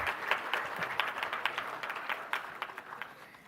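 An audience at an event on standing united against cyber bullying applauds someone speaker, with a moderate, fairly distant patter of clapping whose distinct claps gradually thin and fade.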